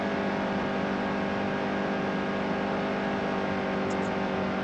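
Race trucks in the NASCAR Heat 2 video game run side by side, their engines a dense, constant droning roar held at steady loudness throughout.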